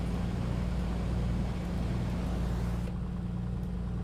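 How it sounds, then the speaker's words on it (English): Piper Comanche piston aircraft engine at reduced RPM in the MSFS 2020 flight simulator, a steady low droning hum with a constant tone, continuous and fairly loud, with no talk over it. "We have a good start. Let's reduce RPM a little bit. Those engine sounds are just wow."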